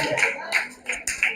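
Sharp, close handclaps at a meet-and-greet event come in a sparse, uneven rhythm of about five claps, with faint voices underneath.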